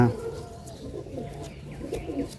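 Pigeons at a market stall in Hooghly coo softly and repeatedly in low, murmuring calls, with a faint chirp or two over a busy background and distant voices.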